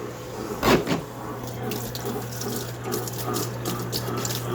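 A compact portable washing machine rinses a load, giving a steady close rush of running water with sloshing and a brief louder splash near the start over a low motor hum.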